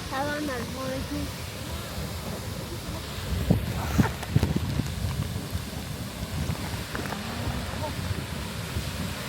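Wind gusts buffet the microphone beside Riverside Geyser in Yellowstone, a steady broadband rush that swells briefly mid-clip, with people talking over it.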